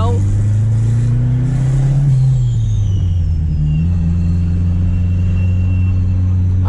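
A turbocharged car revs nearby with a loud deep engine rumble whose pitch rises and dips, while a thin high turbo whistle slides across above it; the sound is continuous and close.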